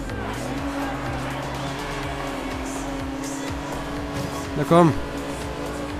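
A Porsche driven in the racing game Forza Horizon 2, its engine droning steadily with a rising, shifting pitch throughout and a brief sweeping tone near the end, while someone speaks briefly over it.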